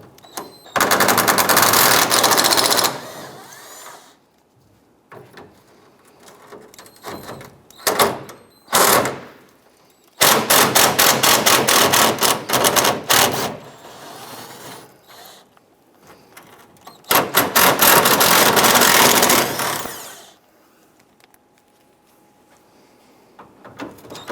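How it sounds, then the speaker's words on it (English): A power ratchet or impact tool removes 8mm bolts along the bottom of a 2002-2008 Dodge RAM grille support, with several loud close bursts of rapid mechanical rattling separated by quieter handling clicks and pauses. "Let's go across the bottom of the support here and remove these 8mm bolts."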